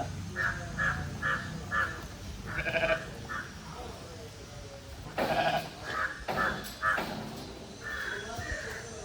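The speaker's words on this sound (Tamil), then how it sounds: "நம்ம ஆச்சி ஆடு போட்ட குட்டிங்க." Goat kids bleating on a sheep and goat farm, several short repeated cries near and far over a steady rural background, with people talking in between.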